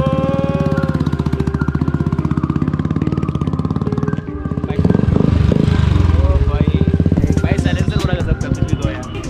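A Royal Enfield Bullet motorcycle engine thumps steadily up close, its rhythmic exhaust pulsing throughout, with a louder revving surge midway as the bike pulls away.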